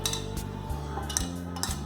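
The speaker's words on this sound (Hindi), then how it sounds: "और अब हम इसको अच्छे से मिक्स कर लेंगे।" A spoon stirs sambhar with tamarind water and spice in a metal pot, giving a few scraping clinks and knocks against the rim over a steady low kitchen hum.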